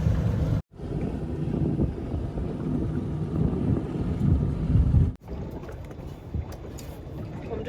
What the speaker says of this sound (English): the wind has blown up since I pulled over